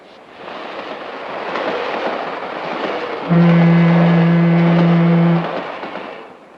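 Passenger train on the Chicago line, in 1952 film-noir sound, rumbles steadily throughout, then a loud sustained two-tone horn blares for about two seconds near the end.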